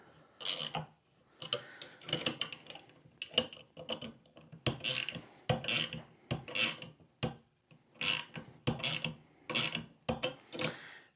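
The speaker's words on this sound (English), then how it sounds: "just keep turning these bolts one side at a time, just a little bit, until we close this gap up" Bolts are turned by hand to bend a custom bracket, producing repeated close ratcheting clicks in short bursts separated by brief pauses.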